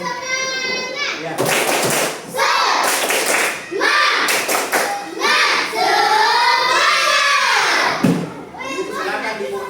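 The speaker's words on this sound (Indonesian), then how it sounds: "Tepuk semangat dulu sekalian." A school class does a group spirit clap, with a burst of hand claps and children's voices shouting and chanting loudly together, mixed with adult speech and cheering throughout.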